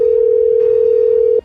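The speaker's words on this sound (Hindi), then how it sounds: "फोन करते हैं" A telephone call tone sounds, one steady, loud, pure tone held for about a second and a half before cutting off abruptly.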